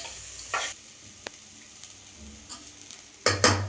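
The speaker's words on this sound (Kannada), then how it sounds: "ಚೆನ್ನಾಗಿ ತುಪ್ಪದಲ್ಲಿ ಇದೆಲ್ಲ ಫುಲ್ ಮಿಕ್ಸ್ ಆಗೋ ಥರ ಬ್ಲೆಂಡ್ ಆಗೋ ಥರ ಚೆನ್ನಾಗಿ ಮಿಕ್ಸ್ ಮಾಡ್ಕೊಳ್ತೀನಿ ಫ್ರೈ ಮಾಡ್ಕೊಳ್ತೀನಿ" Dry fruits stirred and fried in ghee in a pan for a sugar-free burfi, heard as a few short scraping stirs with a faint sizzle underneath, ending in a louder double scrape.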